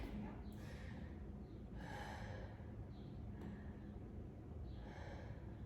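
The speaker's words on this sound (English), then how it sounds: "We're doing deep diaphragmatic breathing" Slow, deep diaphragmatic belly breaths are heard close and quiet: several airy inhales and exhales with soft nasal snort-like draws, repeated at an even, unhurried pace.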